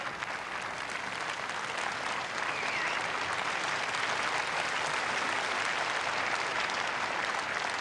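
Sustained applause from a large tennis crowd, a dense, even wash of clapping that holds steady throughout without fading.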